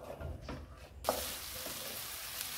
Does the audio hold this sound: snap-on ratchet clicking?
no